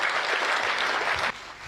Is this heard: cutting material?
no